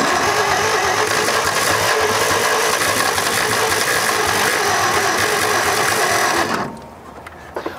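An old abandoned truck, freshly pulled from the woods and carrying a sticking carburetor, cranks and runs loud and steady for several seconds under a rough mechanical clatter, then cuts out abruptly into near silence.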